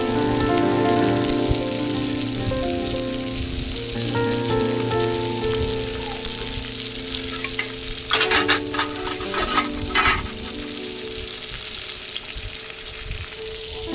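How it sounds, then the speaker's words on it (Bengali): Tomatoes and chopped onion frying in a pan, a loud, dense, continuous sizzle with a faint hum underneath and a short burst of stirring scrapes midway, close up with no voices. "এটাকে ভালো করে ভেজে নেব একটু লাল লাল করে ভেজে নেব টমেটোগুলো যাতে নরম হয়ে যায়"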